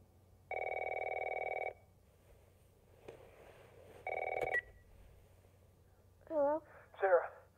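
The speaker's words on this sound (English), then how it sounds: "House phone in her room." A house phone rings in The Last of Us video game, two electronic ring bursts followed by a brief voice, close and clear.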